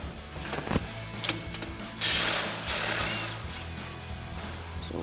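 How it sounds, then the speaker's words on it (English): An impact wrench with an 18mm socket works on the bottom nut of a sway bar link on an F-150: whirring mechanical bursts, then a louder sustained buzz from about two seconds onward, fairly close. "That's an 18mm nut, so we've got our 18mm socket on our impact."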